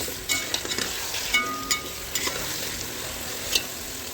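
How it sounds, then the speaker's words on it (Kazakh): Onions and meat sizzle softly in a pot for Uzbek plov, with light scraping and clinking as the food is stirred now and then. "жақсылап топ-топ қылып пиязымызды қуырамыз"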